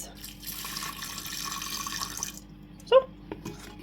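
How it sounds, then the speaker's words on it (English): Demineralized water is poured into the bottom of a glass vase: a faint trickle under a low background hum, then a brief bright splash and a few drips near the end. "I just intend to pour a little bit of this demineralized water to the bottom of the glass vase."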